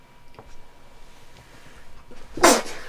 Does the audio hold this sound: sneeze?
yes